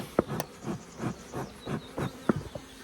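Honeybees flying around an open Langstroth hive during a spring split, their buzzing passing close in a string of about eight brief, rising and fading drones against a quiet background.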